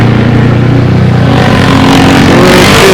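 Motorcycle riding along a city street after rain, a loud continuous engine drone close to the rider with steady rumbling throughout.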